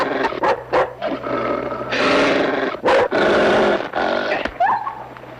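A dog growls and snarls in a western showdown, rough throaty rumbles rising loud and close amid tense, broken movement with short gaps between bursts.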